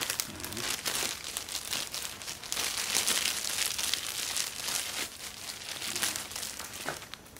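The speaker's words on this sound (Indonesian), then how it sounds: "ini kita masukkan ke dalam plastik seperti ini" A plastic bag crinkles steadily around a freshly grafted mango stem as it is slipped inside, a close, continuous rustle and crackle with soft bursts of louder crumpling and no talking.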